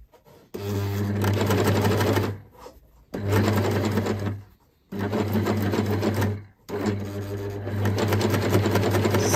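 A cover stitch sewing machine hems fabric in four bursts of steady, loud mechanical running, with short pauses between them and no talking.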